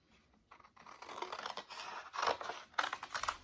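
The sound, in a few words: scissors cutting out paper heart templates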